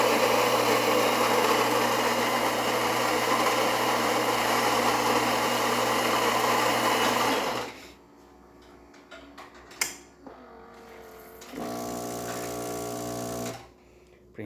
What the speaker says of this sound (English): And now we can do our shot of espresso.